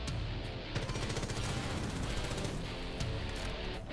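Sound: gunfire shooting bandits in a video game

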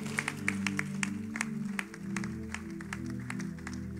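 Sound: audience clapping in church service

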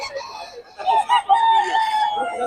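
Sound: young rooster (stag) crowing

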